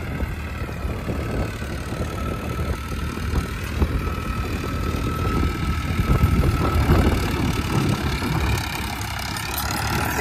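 A diesel tractor engine runs steadily at working revs while pulling a harrow in a farm field, a continuous close, loud drone with a rough low rumble and no voices over it.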